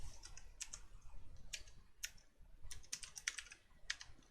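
Quick bursts of keystrokes on a computer keyboard while Python code is entered, crisp close clicks in uneven clusters with short pauses between, fairly quiet and alone.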